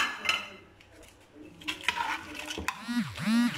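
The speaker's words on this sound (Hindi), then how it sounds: "अब इसको हिला लूँगी चम्मच से।" A spoon clinks and scrapes around inside a metal pot, irregular stirring sounds with some liquid sloshing, close by, as a shami kebab mixture with garlic and greens is stirred.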